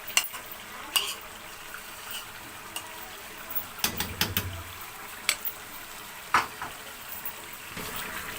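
Chicken malai boti frying in a pan after cream is added, a soft steady sizzle with occasional stirring clinks and scrapes, close up.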